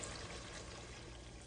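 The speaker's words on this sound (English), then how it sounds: "Now that these have been cooking for about 10 minutes, we're going to add 8 cups of water." Eight cups of water pour into a cooking pot in a steady, continuous close-up rush, with no talking over it.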